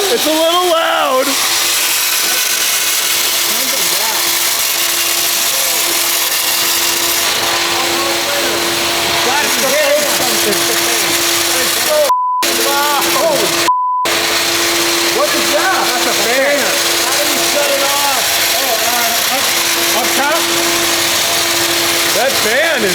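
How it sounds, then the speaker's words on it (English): Loud, steady whirring roar of a fan running in a homemade McLaren P1 replica build, a constant droning hum with a faint tone, people talking over it at times. "That fan is angry."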